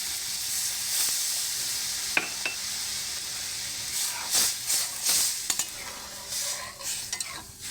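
Water poured into hot roasted semolina sets off a loud, close hiss and sizzle, broken by sharp scrapes and clicks of a spoon stirring against the pan, with no voices.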